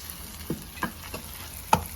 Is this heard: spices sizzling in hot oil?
yes